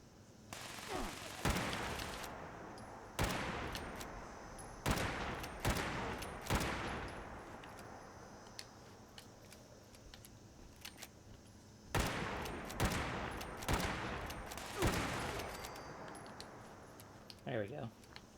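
Rapid gunfire bursts in Fallout 76, sharp broadband volleys repeating in clusters with short gaps between, fairly loud and close, with faint game ambience and clinking between bursts.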